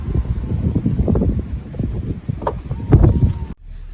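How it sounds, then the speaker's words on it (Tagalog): Strong gusty wind buffets the microphone outdoors, producing a rough, low rumbling roar that swells and eases over a few seconds before cutting off abruptly. "Lakas po ng hangin."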